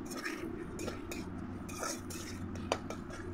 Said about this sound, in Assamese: তাৰ পাছত মই এনেকৈ লৰোৱা আৰম্ভ কৰি দিছোঁ